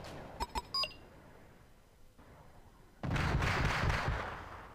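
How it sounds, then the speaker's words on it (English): Artillery bombardment in the war video game Dabrowski's Mazurka: a few short electronic beeps, a quiet lull, then a loud, dense barrage of rumbling blasts rolls in and keeps going. "The artillery pieces will also join the bombardment."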